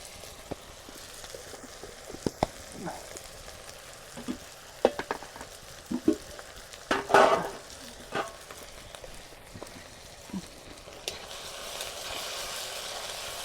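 Onions and spices with organic turmeric and salt frying in a pot for a village mutton curry, a steady close sizzle with scattered pops and crackles and a brief louder burst of hiss midway.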